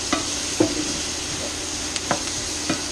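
Spinach being stirred into a simmering chicken, beans and greens soup, with a low bubbling hiss and several distinct knocks and scrapes of a spoon against the pot, close by.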